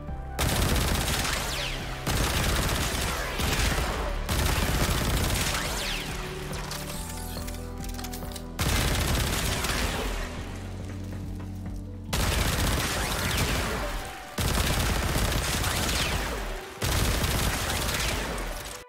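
A Tenet Spirex firing in Warframe, a loud gun fed by an eight-round magazine, heard as dense bursts of rapid shots separated by short breaks and mechanical reload clatter, with no talk over it.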